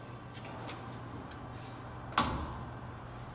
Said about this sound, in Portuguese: Para a operação da lavadora, basta abrir a porta.